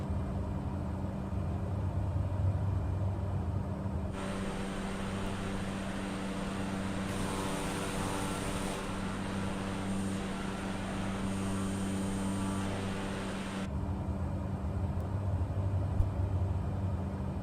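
A light aircraft on final approach to land in Microsoft Flight Simulator 2020, flying from Glasgow to Belfast, gives a steady, loud engine and propeller drone with airflow noise that swells briefly in the middle, with no speech.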